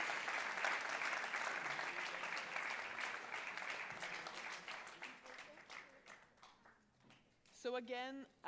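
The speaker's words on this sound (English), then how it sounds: "a really warm applause to our fantastic speakers" Plenary session audience at an IFLA 2019 library conference applauding its speakers, loud sustained clapping that gradually thins and fades before a voice begins speaking at the end.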